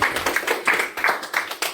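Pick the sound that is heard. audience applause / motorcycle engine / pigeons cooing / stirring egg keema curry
audience applause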